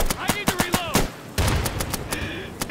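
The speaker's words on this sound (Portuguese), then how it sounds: "Caralho, todo mundo atirou num cara só." Bursts of gunfire from the tactical shooter game Insurgency, several sharp shots in quick succession with a dense volley late on, close and loud, mixed with brief voices.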